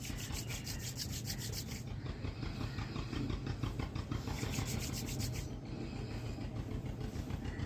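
Hands rubbing and massaging the neck produce a continuous, close scratchy friction with rhythmic back-and-forth strokes, quiet overall and without talk.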